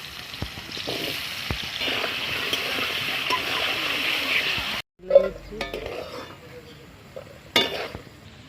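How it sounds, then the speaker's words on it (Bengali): Potato pieces coated in turmeric and salt fry in hot oil with a loud, continuous sizzle that cuts off abruptly, followed by a few pan knocks and utensil clatters. "তেল আমার গরম হয়ে গেছে, আমি আলুগুলো ভেজে নেবো"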